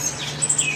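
Birds at the Alabama Wildlife Center, a rehabilitation facility, give a few thin, high chirps in a very brief moment over a low steady background hum.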